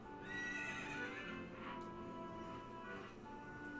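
Horse in the Zelda: Ocarina of Time video game, a loud shrill neigh with a shaking, wavering pitch, over a faint rhythmic clip-clop of hooves and a steady game backdrop, with no talking.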